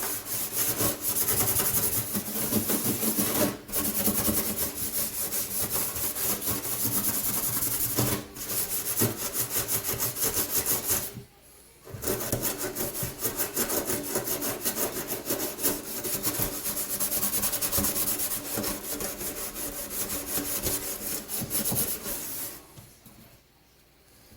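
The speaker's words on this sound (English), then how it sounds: "Let me scrub all this off of there." Vigorous scrubbing on a stainless steel sink produces a loud, continuous abrasive rubbing in steady back-and-forth strokes, pausing briefly twice before the scrubbing resumes and finally stops.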